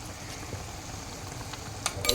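Masala spices fry in a pan with a steady, even sizzling hiss and a couple of faint clinks near the end.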